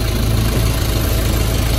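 A lady driver's car idles with a faulty clutch release bearing, a steady low engine rumble with a continuous mid-range whir, loud and close throughout with no talking.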